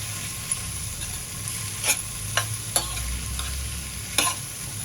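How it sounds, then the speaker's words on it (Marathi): Capsicum sautéing in a pan with chilli powder and turmeric, a steady low sizzle with a few sharp spoon scrapes and taps scattered through, close and fairly quiet. "आणि परतून घालूया"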